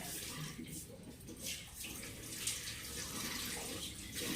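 A tap runs steadily for face washing at home, a continuous close rush of water with faint splashing throughout and no pauses.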